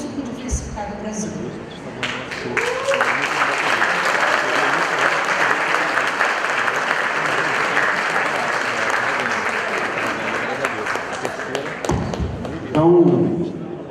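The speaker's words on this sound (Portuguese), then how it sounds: "pelos aplausos dá para ver" Sustained applause from a large seminar audience, dense and steady for most of the span, with a few louder claps and a brief voice near the end.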